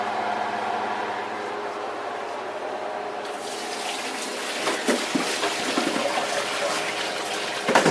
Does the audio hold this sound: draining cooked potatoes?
yes